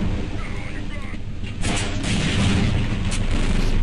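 A tank firing in Half-Life: Blue Shift: heavy booming blasts land one after another over a steady rumbling battle bed, loud and close.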